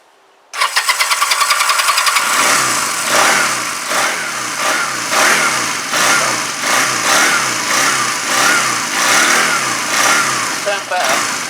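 A Honda CM200T Twinstar motorcycle engine with the choke on cranks with a rapid rhythmic whirr, then catches and runs loud and near at a steady, slightly uneven idle with small surges.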